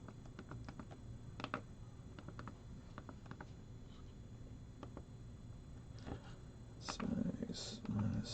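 A shutdown command being typed on a computer keyboard at a Raspberry Pi Zero W terminal, with quick irregular clicks of keys near the microphone and a few louder taps toward the end.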